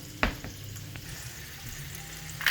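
A thick swordfish steak cooking in a pan, a low steady sizzle and fry with a couple of sharp pops and crackles, heard close and alone.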